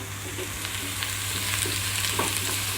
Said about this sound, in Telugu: జీలకర్ర ఫ్రై అయిపోయింది